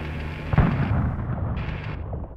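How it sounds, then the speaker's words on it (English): A bomb dropped in the Blackthorne video game detonates with a sharp, loud burst followed by a rumbling roll of explosion noise and crackle, ending with another brief pop. "And then you drop a bomb."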